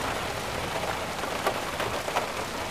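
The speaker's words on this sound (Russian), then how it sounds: "Ого, как льет. Прямо всемирный потоп." Steady, dense rain hissing down on a surface, broadband and continuous, with a few slightly louder drips or splashes standing out.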